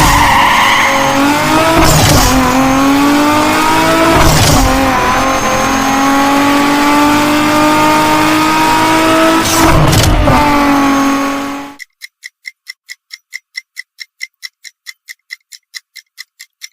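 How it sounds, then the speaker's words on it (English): A Toyota car engine with a smooth, steady note and a few revving swells, loud and close for about twelve seconds, then cut off and followed by a sharp repeating countdown tick. "Smooth and reliable engine note."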